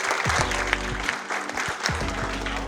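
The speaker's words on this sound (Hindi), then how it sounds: "Parents के लिए भी जोरदार तालियां." A crowd at a preschool annual function applauding the parents, a moderately loud, continuous clapping with some voices and music-like tones underneath.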